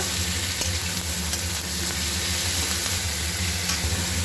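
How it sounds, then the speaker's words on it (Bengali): Chopped onions fry in a pan with a loud, constant sizzle and hiss close by, and stirring scrapes sound through it with no one talking. "এবার আমি ভালো করে পেঁয়াজটা ভেজে নেব"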